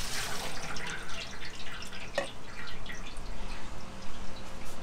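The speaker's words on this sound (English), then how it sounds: "4 cups of white distilled vinegar." White distilled vinegar pouring into a pot for steaming Chesapeake Bay blue crabs, a fluttering liquid splash and trickle with a brief clink, close and moderately loud, no talk.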